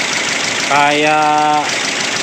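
Rough-running engine of a 2012 Toyota Rush automatic makes a steady, loud, close drone throughout, while someone speaks briefly over it in the middle.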